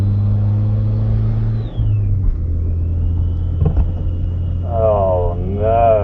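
Manual Mitsubishi EVO X engine on a track day with a boost leak, droning loudly in the cabin then dropping in pitch as revs fall, with a rising whine and wavering tones; someone talks over it.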